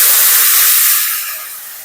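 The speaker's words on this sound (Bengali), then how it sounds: "শাকটা ঘি আর রসুন একসঙ্গে ভাজা হয়ে গেছে" Loud, bright sizzling hiss of greens frying in ghee with garlic, steady at first and then easing off slightly toward the end, with no voices.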